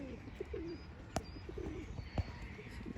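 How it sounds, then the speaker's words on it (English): Wild birds call at a managed wetland with reed beds: soft cooing and a few scattered chirps, faint and distant over quiet ambient noise. "Everything there is just wild birds that just decide to live here."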